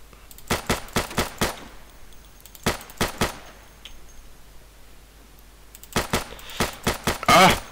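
Bursts of gunfire in Insurgency, rapid shots in quick groups separated by brief pauses, loud and close with a final burst tailing off.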